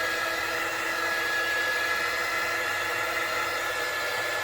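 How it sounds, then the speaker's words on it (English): A heat gun blows steadily over resin layered with chiffon fabric, a continuous close, even hiss of moving air that stays level throughout with no pauses. "So just again giving a bit of a heat gun"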